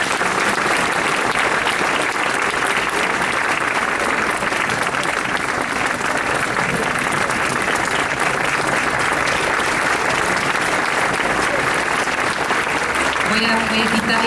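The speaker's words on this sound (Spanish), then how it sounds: "Les pido un aplauso para los protagonistas." Sustained, dense audience applause at a book presentation fills the full stretch at a steady loud level, with crowd murmur and faint voices mixed underneath.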